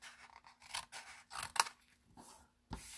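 Scissors snip paper while trimming pieces for a paper treat chest, a handful of soft, close cuts and rustles at an uneven pace, quiet throughout.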